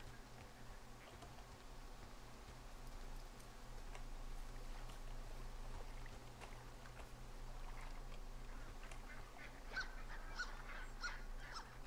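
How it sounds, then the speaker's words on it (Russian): Seagulls call faintly through a low, steady ambient hum in the video game Firewatch, a few short cries scattered in the later part over constant background noise. "Ну это чайки летают."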